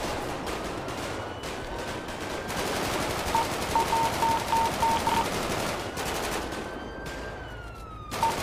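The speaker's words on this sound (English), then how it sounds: "Shot fired!" Heavy gunfire in Grand Theft Auto V, sustained loud automatic bursts and rapid shots in a chaotic firefight, with a police siren wailing in the background.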